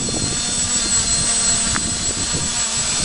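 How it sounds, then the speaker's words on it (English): A homemade quadcopter flies, its steady motor and propeller drone sustained and fairly loud throughout, with no talk. "So there you go, homemade quadcopter."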